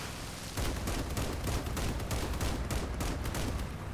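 Vehicle-mounted guns firing in the vehicle combat game Crossout, a dense, steady barrage of overlapping shots heard quietly and without pause.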